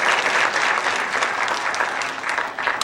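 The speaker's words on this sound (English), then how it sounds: "Give Ryan another round of applause." Dense, steady applause from a band concert audience for a pianist, sustained and loud throughout with no voices over it.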